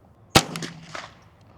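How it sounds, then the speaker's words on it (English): A single close shot from a custom Ruger 10/22 rifle firing CCI Blazer .22 rounds at an outdoor target, a sharp crack followed by a short echo. "we got our CCI Blazers loaded up. Let's shoot a group at the top left target"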